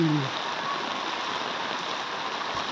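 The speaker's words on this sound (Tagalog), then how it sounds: "Lakas po ng ulan." Steady, dense rain hiss from Typhoon Carina pours down continuously in flooded Navotas City, loud and close, with a brief low voice murmur at the very start.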